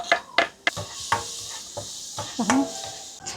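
Garlic cloves toasting in oil in a pan, heard as a few scraping stirs and light clatters of a utensil over a soft sizzle, close and moderately quiet.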